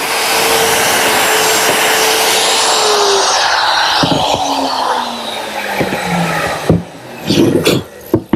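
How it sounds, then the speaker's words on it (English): A router bores a row of shelf-clip holes through a jig for a teak bar, a loud close motor whine that winds down in pitch, followed by brief knocks and clatter of handling. "Using my router and a jig, I'm able to make a series of holes which is going to receive the clips to support the shelves"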